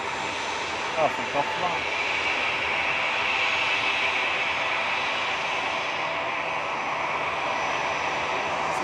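An EasyJet airliner departs Manchester Airport, its jet engines giving a loud, steady roar that fills the whole stretch, while a nearby voice speaks briefly near the start.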